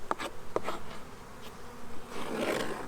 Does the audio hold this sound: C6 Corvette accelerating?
no